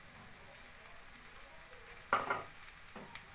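Hakka noodles with vegetables being tossed and stirred in a hot pan, a soft continuous sizzle broken by a couple of quick scraping clatters near the end.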